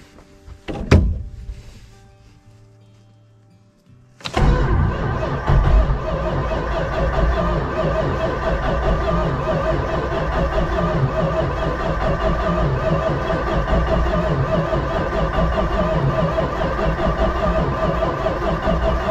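A 1969 Dodge Super Bee engine is cranked over. A sharp thunk comes first, then after a short quiet the engine churns in a loud, steady, continuous grind that runs to the end.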